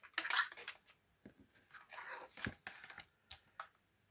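Scissors trim a ringbound mini album's paper scraps, several crisp snips and rustles of paper in irregular bursts, close and fairly quiet, with no talking.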